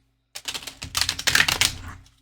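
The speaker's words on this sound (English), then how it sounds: "So I have this deck out here. We're going to shuffle quick on camera." A deck of tarot cards is shuffled quickly by hand close up, a burst of rapid papery riffling clicks that starts abruptly, builds and then trails off over about two seconds.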